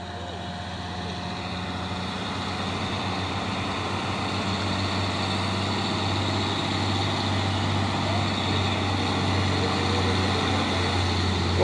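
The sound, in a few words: tall tanker truck passing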